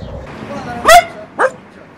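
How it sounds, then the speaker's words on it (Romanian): A dog gives two loud, close barks about half a second apart, the first longer with a whiny yelp quality, after a brief quiet murmur. "Salut, câine!"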